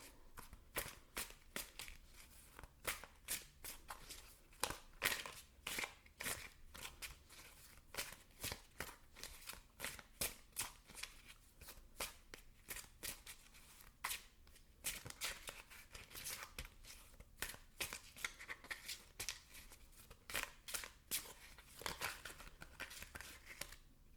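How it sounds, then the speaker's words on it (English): Cards are shuffled over and over in a steady, rapid riffle of crisp snaps and slaps, close up and continuous with no talking. "shuffle for your tarot cards first"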